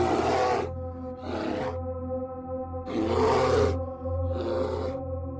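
A bear lets out four long, loud roaring bursts, deep and rough with a growling edge, close by and separated by short silent gaps, set in a night-time nature reserve in a horror story.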